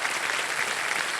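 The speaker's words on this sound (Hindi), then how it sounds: "ताली बजती रहे इनके लिए।" Studio audience on the quiz show KBC applauding, a dense, even wash of many hands clapping at once, loud and continuous.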